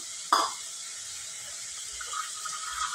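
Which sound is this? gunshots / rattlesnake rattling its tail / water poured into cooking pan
water poured into cooking pan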